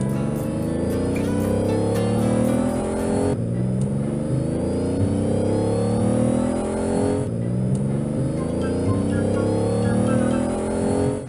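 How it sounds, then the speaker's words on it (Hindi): Cartoon ice vehicles driven by children around an amusement park, their engines droning and revving loudly and continuously, with repeated rising and falling pitch sweeps and no pauses. "कुछ बच्चों ने उन गाड़ियों में बैठकर ड्राइव करना शुरू किया"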